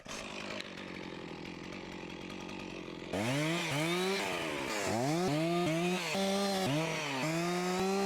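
A chainsaw in a forest runs at a steady drone, then bites in with repeated rising and falling revs as it cuts through a tree trunk, loud and close.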